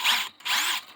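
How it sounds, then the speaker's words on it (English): A Mac 20V cordless drill whirs on medium speed in two short bursts, close and loud, with a brief pause between the runs. "So this is a really nice drill."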